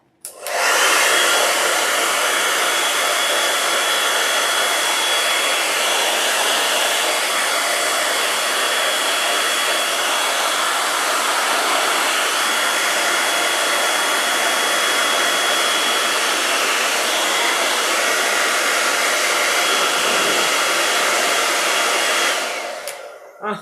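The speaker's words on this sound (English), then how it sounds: "Here's my blow dryer." A handheld blow dryer runs steadily at full power for about twenty seconds, a loud, close, constant airy roar that switches on at the start and cuts off at the end.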